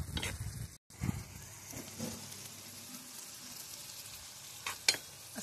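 Marathi-style tadka tempering sizzles steadily in a hot pan while bharit is being prepared, a continuous close frying hiss with a short break and a few brief clatters near the end.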